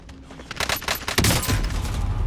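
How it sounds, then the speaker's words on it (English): Rapid bursts of gunfire from a PC shooter game, dense and loud, crackling in clustered volleys that build into a sustained heavy rattle toward the end. "I thought I was getting shot through the building there"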